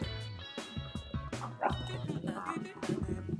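A man imitates a dog barking, giving a string of rhythmic, close, voiced woofs and yips in quick succession with short gaps between them.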